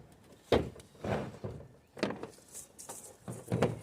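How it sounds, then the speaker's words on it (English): Truck battery being slid up into its tray by hand, a few close dull thunks and scraping knocks spaced over a few seconds, with quiet pauses between. "So, finish sliding the battery up."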